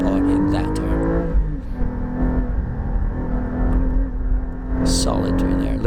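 A 2020 Porsche 718 Cayman GT4 lapping a race track, its engine droning steadily with rising and falling pitch through corners, someone talking over it throughout.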